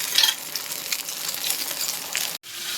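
Tomato masala with a spoonful of water cooks in a pan, giving a steady, close bubbling sizzle that carries on without a break and cuts off sharply near the end. No one speaks.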